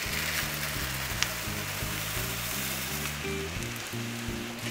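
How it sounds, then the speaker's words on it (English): Orzo pasta sautés in the oil of a soffritto for a risotto, a steady close sizzle running under background music. "I'm gonna saute my pasta a little bit into the oil of the soffritto."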